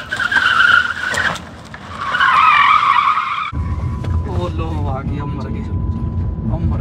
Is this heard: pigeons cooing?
no